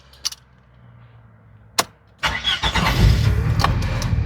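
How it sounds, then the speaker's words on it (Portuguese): A car bought in Paraguay starts up after a couple of clicks: a short cranking burst, then the engine catches and settles into a steady, close idle. "Deixa eu ligar o carro para vocês verem."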